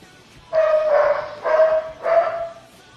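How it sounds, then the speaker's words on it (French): A pet dog barks in a room during mobile Naruto gameplay: three loud, close, tonal barks in quick succession over about two seconds, with no talk over them. "Donc si vous entendez mon chien, c'est un peu normal."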